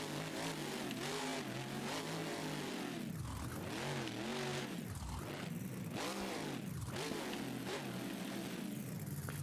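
A monster truck engine in BeamNG Drive, running a manual clutch gearbox with a League engine, revs loudly and continuously, rising and falling through repeated sweeping pitch changes with no talk over it.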